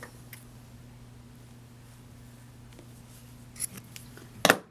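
Scissors snip through white crochet yarn once near the end, a short close crisp cut after a quiet stretch with a low steady hum in the background.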